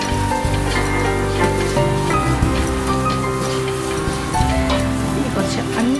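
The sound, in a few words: onions and spices sautéing in pan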